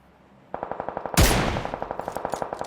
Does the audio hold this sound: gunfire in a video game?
yes